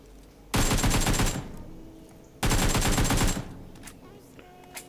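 Two long, loud automatic gunfire bursts from PUBG Mobile, each lasting about a second, separated by a short quiet gap, with faint game sounds before, between and after.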